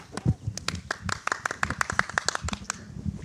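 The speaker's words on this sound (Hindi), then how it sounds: "असली तालियां बजा दो कमीनो." Studio audience clapping for a guest brought onto the hot seat of a podcast set, a lively scatter of hand claps lasting a few seconds, close and fairly loud, with no speech over it.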